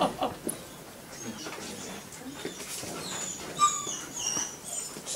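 German Shepherd dog giving a few faint, brief whimpers during lunge line training outdoors, with bird calls nearby and soft background noise.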